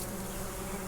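Honeybees at a newly housed swarm hive give a steady, dense buzz, close and continuous, with no voices.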